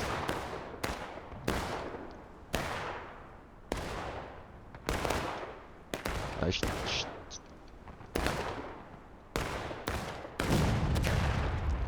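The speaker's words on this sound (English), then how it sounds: "3 flags down with 1 artillery shot." Artillery cannon fire and musket volleys in the Civil War battle game War of Rights: a rapid series of about a dozen loud, booming shots, each with a long echoing tail, some mixed with faint talk.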